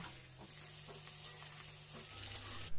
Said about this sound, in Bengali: গ্যাসটা হাই ফ্লেমে করে আলুটা ভেজে নেব